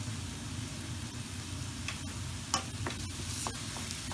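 Ground coriander, chilli and paprika stirred through beef in a hot pan, a steady close sizzle with scraping spoon strokes and a few sharp clicks.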